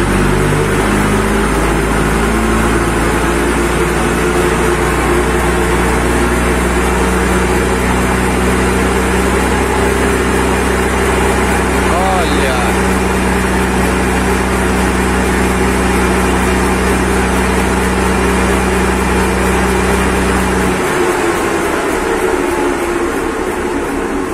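A Mercedes-Benz 1513 truck engine runs loud and steady in a low, heavy drone, holding at idle for about twenty seconds before the note shifts abruptly near the end; no voices are heard.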